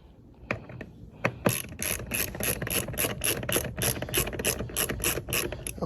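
A ratchet wrench clicks rapidly in repeated bursts while tightening the air filter housing on a Cadillac DTS, with close, crisp, rhythmic pawl ticks growing steadier toward the end.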